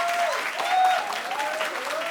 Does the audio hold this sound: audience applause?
yes